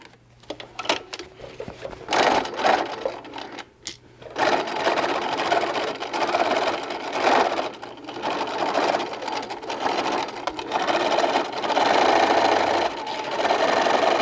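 Close, loud sewing machine running in long steady bursts as it stitches a seam on a small fabric bunny bag, with a few short starts and stops at first, then continuous whirring.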